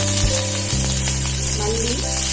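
Mustard seeds and curry leaves hit hot oil in a pan, giving a loud, close, continuous sizzle with light stirring over background music.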